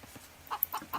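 Chickens cluck in Age of Empires 2 Definitive Edition, a few short, clipped clucks in quick succession, faint and alone.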